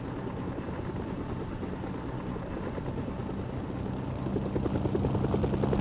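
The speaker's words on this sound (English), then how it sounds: "I take a VZ helicopter" Helicopter in the video game Mercenaries 2 on PS2, a steady rotor thrum and engine drone that grows slightly louder toward the end, with no talk.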